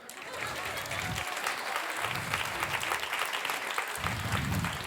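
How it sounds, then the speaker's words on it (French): A gala audience breaks into continuous clapping at a youth media awards night, a broad steady wash of applause from a large crowd with a low voice murmuring underneath. "Vous pouvez applaudir."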